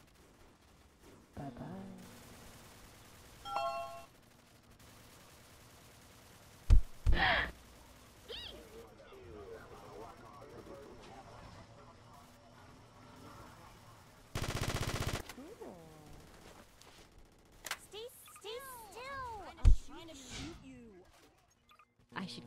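Video game gunfire crackles in a few sharp bursts, including a loud broadband blast midway, mixed with game sounds while a player talks excitedly over it.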